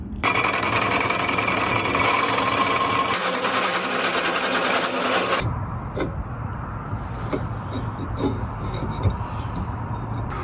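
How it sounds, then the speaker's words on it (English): Steel tubing being notched for a Miata roll bar with a tube notcher, a loud continuous grinding whine for about five seconds that cuts off abruptly, followed by quieter shop clatter and scattered metallic clinks. "Notched the first end"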